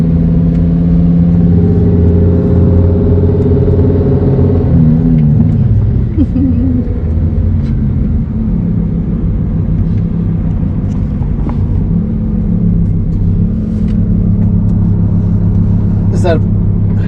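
A 1200 HP twin-turbo Lamborghini Gallardo on a half-mile track day roars loudly, its engine tone climbing through gears in the first seconds before settling into a sustained rumble that fades slightly, with brief chatter in the background.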